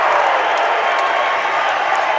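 A home crowd roars with cheers and applause at the Merrimack vs. South Dakota State college basketball game: a dense, steady wall of noise that fills the whole moment without a break.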